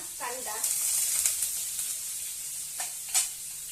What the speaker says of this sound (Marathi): आपला कांदा परततोय